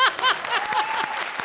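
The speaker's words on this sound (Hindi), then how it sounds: "एक बार जोरदार तालियां" Studio audience applause at a televised Hindi comedy show: a short, steady burst of clapping with voices mixed in over it.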